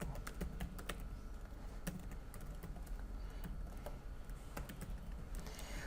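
Code typed on a computer keyboard during a programming lecture, a quiet run of rapid uneven key clicks with occasional sharper taps, close and alone without speech.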